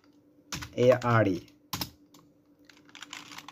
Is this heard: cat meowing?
no